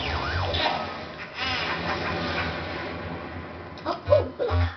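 A vacuum steadily sucks up a ghost in the video game Luigi's Mansion, a continuous whooshing roar with whining, warbling tones that swell near the end and a voice talking over it.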